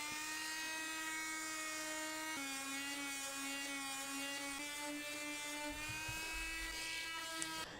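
A 1.6 horsepower 1/3 sheet sander with mildly coarse sandpaper working hardwood planks, giving a continuous high whine with shifting pitch and loud buzzing throughout, close up with no talking.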